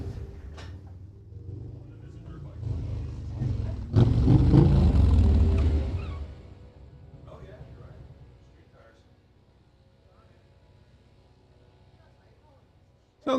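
A group of Harley-Davidson motorcycles and one KTM, about a 450, ride past, their low rumble swelling briefly and loudly before fading into a quieter background with voices talking.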